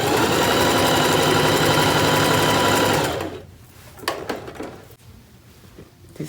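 A sewing machine runs rapidly through a quilted jacket for about three seconds, a loud, even, buzzing whir of fast stitches, then stops, leaving a few quieter knocks and handling sounds of fabric and the machine.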